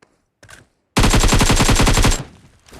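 Rapid automatic gunfire in the mobile battle royale game BGMI, a dense burst of about a second and a half of loud, evenly spaced shots, preceded by a faint short sound and trailing into a brief echo.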